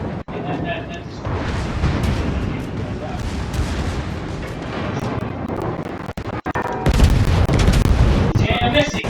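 Heavy naval guns boom over a dense, rumbling battle in the World of Warships video game, a constant wash of blasts and explosions with a louder barrage near the end, while people talk over it.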